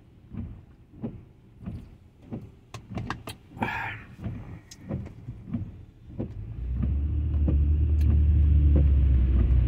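A car drives on a rain-wet road in Vallejo, California, heard close up: a run of regular soft knocks, then a loud, steady engine and tyre rumble that swells in the last third. No one speaks.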